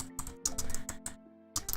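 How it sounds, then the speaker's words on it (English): Quick bursts of clicking keystrokes on a computer keyboard, several fast taps in clusters separated by short pauses, close and fairly quiet, with a faint steady hum beneath. "So let me type this up."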